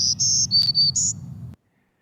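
A recorded bird song of buzzy, fast-trilled notes: five high, clear bursts in quick succession over a steady low background hum, cut off abruptly after about a second and a half.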